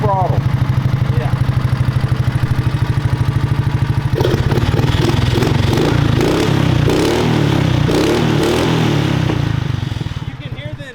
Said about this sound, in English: You can hear the induction and the exhaust.